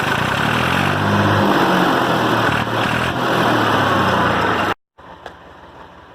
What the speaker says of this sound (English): a Massey Ferguson 231, an old scraper blade attached to said 231 Massey Ferguson.